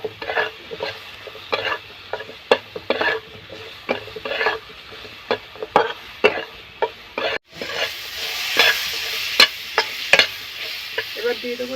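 Aubergine and egg are stirred in a frying pan: a steady low sizzle under repeated sharp spatula scrapes and taps against the metal. The sizzle swells louder partway through, close-up and without speech.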